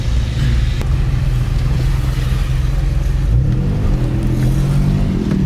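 An old car, parked for years, drives along with a loud, close engine drone that rises in pitch as it accelerates and shifts, no speech over it.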